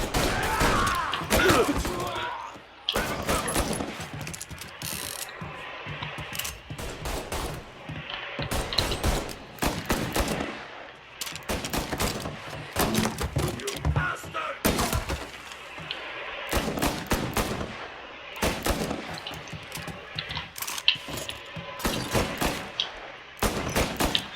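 Gunfire rings out in the Mafia Definitive Edition game, with dense bursts of shots and fusillades crackling steadily for the whole stretch, loud and close, with some glass shattering and thuds mixed in.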